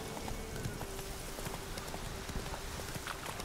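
Hoofbeats of the horse Roach in The Witcher 3 clip-clop in a steady, quick rhythm, close and moderately quiet against a soft background hum.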